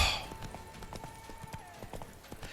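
Horse hooves clip-clop in quick rhythmic beats during a ride in The Witcher 3: Wild Hunt, moderately close and fairly quiet, with a faint voice briefly under them.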